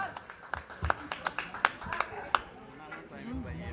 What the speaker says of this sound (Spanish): ¡Aplauso para Mateo de Mérida,